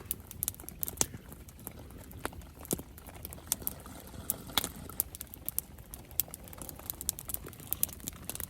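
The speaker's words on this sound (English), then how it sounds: "The rain's picking up." Rain patters steadily on a campsite, a dense crackle of close, irregular drops and taps with no talking.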